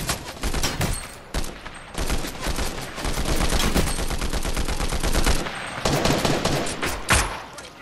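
Combat shotgun gunfire in Fortnite: loud, rapid bursts of shots packed densely together, with a brief gap near the end before more firing, dominating the mix without talk.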